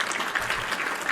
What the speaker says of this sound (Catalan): Un aplaudiment.